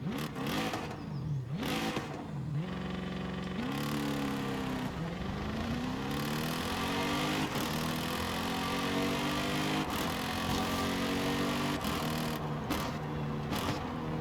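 A car engine in Forza Horizon 5 revs hard through rising and falling gear sweeps, then settles into a loud sustained growl as it pulls steadily through the whole stretch.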